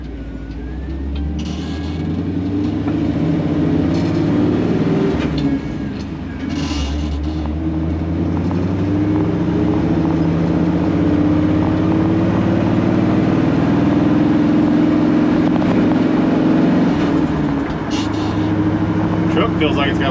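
A Chevy C10 pickup truck with a 4-speed manual gearbox driving, its engine droning steadily with a faint exhaust leak, loud and continuous under cabin road noise for the whole stretch.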